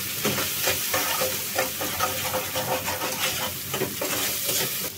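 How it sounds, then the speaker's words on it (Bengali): Garlic paste, salt, turmeric, chili and coriander powder frying in a pan for chicken tomato curry, a loud steady sizzle with rhythmic stirring and scraping close up, and no speech. "মশলাগুলো ভালো মতন কষিয়ে নিব।"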